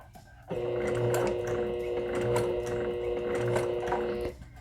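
A sewing machine runs a short steady burst of a few stitches while hanger-organizer fabric is stitched, a close, even mechanical whirr with faint rhythmic clicks that starts and stops abruptly.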